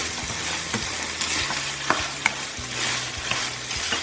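Ground beef stir-frying with oyster sauce in a hot pan, a continuous sizzle broken by a few sharp clicks and scrapes of the utensil.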